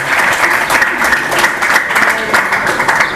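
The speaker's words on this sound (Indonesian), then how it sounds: "tepuk tangan buat Amalia ya" Steady applause from a crowd fills the whole moment, dense clapping with no pauses, fairly close and even in loudness.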